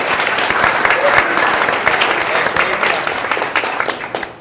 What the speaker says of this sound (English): let's just give one more round of applause for Parker, Baily, and Les.